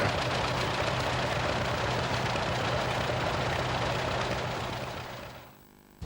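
A rare John Deere AWH two-cylinder tractor (Model A, wide front end) idles with a steady, dense engine rumble close by, then eases off and quiets near the end.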